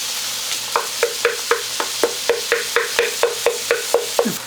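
Jalapenos and onions sizzle in a pan under a run of regular, evenly spaced scrapes and knocks, about three per second, as a spatula stirs and smashes them, close and clear with no voices.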